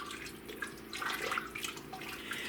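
Seafood chowder with vegetables, shrimp and potatoes being stirred in a pot, giving a continuous wet sloshing and swishing with small liquid splashes, fairly close and steady throughout, with no talking.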